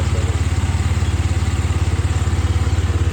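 A motorcycle engine idles with heavy vibration, producing a steady, rapid, close thumping pulse that repeats evenly throughout, with no talking.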